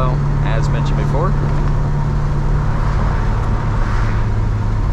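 A 1966 Chevrolet Chevelle SS cruises at about 50 mph with the engine near 2000 RPM, making a loud, steady low drone with road rumble throughout. A voice speaks faintly over it.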